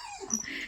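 A dog gives a short, faint whimper, a brief high whine lasting under a second, heard alone.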